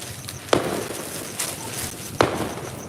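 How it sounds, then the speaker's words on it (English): Fourth of July fireworks pop around an outdoor spot, sharp separate bangs at uneven intervals, two louder and near, one fainter, with crackle and hiss between them and no talking. "there's a lot of fireworks going on all around me."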